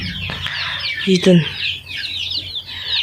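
A broody hen clucks in short, low, throaty bursts near the recording point, while a person speaks briefly over the birds and other fowl chirp softly in the background.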